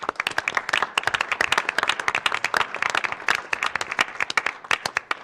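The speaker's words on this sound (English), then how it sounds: "So let's give these guys a round of applause" Dense, sustained applause from an audience at a school district board of education meeting, many hands clapping steadily and loudly with no voices over it.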